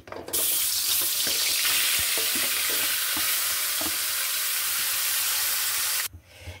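Fish sizzling loudly in hot oil in a pan, a steady dense crackle running unbroken for about six seconds before cutting off abruptly, with no talk.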